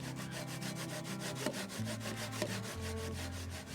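Steady back-and-forth sawing through wood, rhythmic rasping strokes continuing throughout, close and fairly loud, with a low hum underneath.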